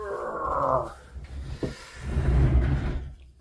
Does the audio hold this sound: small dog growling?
yes